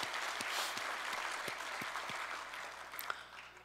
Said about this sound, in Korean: 우리 따뜻한 격려의 박수 한번 부탁합니다